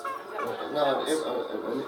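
Hens clucking around a chicken coop, a close, continuous cluster of soft murmuring clucks and short calls with no clear break.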